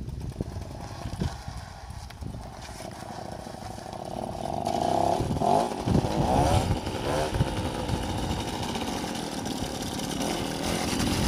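A Motobécane 40V moped with a 70cc engine starts up and settles into a buzzing, uneven two-stroke idle, close and loud, with a faint mechanical rattle underneath.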